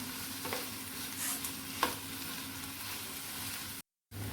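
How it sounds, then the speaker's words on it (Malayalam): Rice mixture being stirred with sauce in a pan for sweet potato rice balls, a steady scraping and sizzling with a few louder spoon knocks, close and continuous, no voices. "സോസൊക്കെ ഇതിൻ്റെ എല്ലാ ഭാഗങ്ങളും എത്തുന്ന രീതിയിൽ നന്നായി ഒന്ന് മിക്സ് ചെയ്ത് കൊടുക്കാം."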